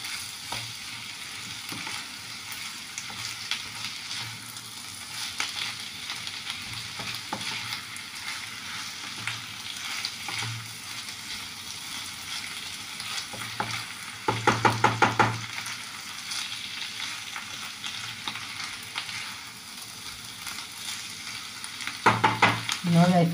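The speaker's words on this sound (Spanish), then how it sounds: "Lo revolvemos todo bien. Bajamos un poquito el fuego para que no se nos queme." Chard sizzles as it fries with garlic and ham in a pan, with steady stirring throughout and a couple of louder clattering scrapes of the utensil against the pan.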